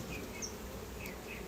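Honey bees buzzing around a beehive during a February hive inspection, a faint continuous hum with a few brief higher whines of individual bees passing close.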